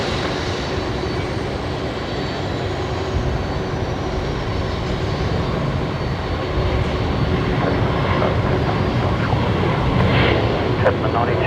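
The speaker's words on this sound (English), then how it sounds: "here's the Tasman cargo coming past. The 767 looking absolutely awesome." A Boeing 767 cargo jet of Tasman Cargo taxiing past at Brisbane Airport at night, a steady loud engine whine and rumble throughout, with people talking over it.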